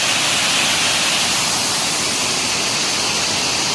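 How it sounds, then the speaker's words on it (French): The Oshin-Koshin waterfall on the Shiretoko peninsula in Japan rushes in a loud, steady broadband roar, heard close and alone without any voices. "Et voilà une cascade."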